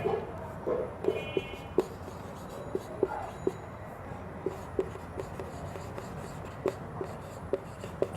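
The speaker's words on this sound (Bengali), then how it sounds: "যাই হোক, আমরা এখন লিখতে পারি" Writing during a class-two math lesson, with a pen or marker tapping and scraping in short, regular strokes across the whole stretch, fairly close over a faint room hum.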